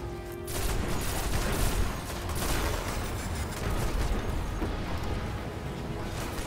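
Heavy weapon fire and explosions from the shooter game Destiny pound steadily throughout, a dense, loud barrage of booming blasts with no voices.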